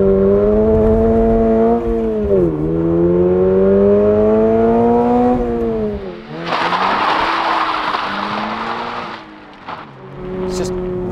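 A 2022 Subaru BRZ with a manual gearbox launches hard. The engine revs climb steadily, then a loud burst of tire noise follows, heard from inside the car with people talking over it.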